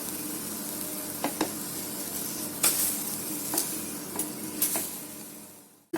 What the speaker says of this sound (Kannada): ನೋಡಿ ಈ ರೀತಿ ಮತ್ತೆ ಚಂದ ಮಾಡಿ ಫ್ರೈ ಆಗಲಿ